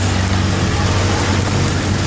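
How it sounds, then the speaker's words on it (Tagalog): Heavy rain pours down steadily outside a small shop, a dense, loud hiss with a low rumble underneath, constant throughout without any break. "Ang lakas ng ulan guys"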